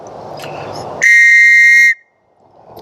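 A loud Coast Guard/NATO safety whistle gives one shrill, piercing blast lasting about a second, with a slightly multi-tone edge, close up, then stops abruptly. Faint background noise comes before and after it.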